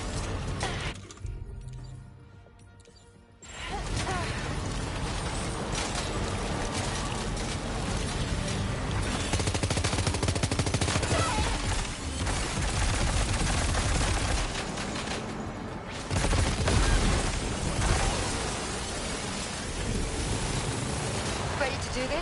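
Sustained gunfire in Death Stranding 2, a dense, continuous roar of shots after a brief quieter opening, with a short lull and renewed heavy bursts.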